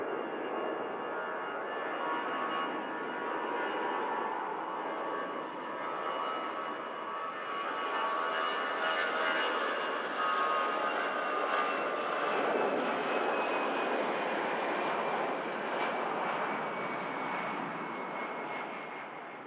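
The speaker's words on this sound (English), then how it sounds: "the next aircraft out is this EasyJet A320" An EasyJet Airbus A320 takes off from Manchester Airport with a sustained, broad jet engine roar that swells slightly, then eases as it climbs away, with no talking.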